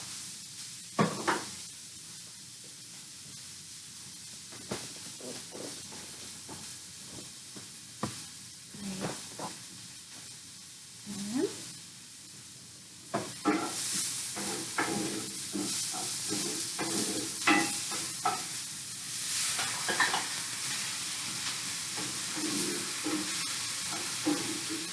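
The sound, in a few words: stirring a sizzling pan and adding lentils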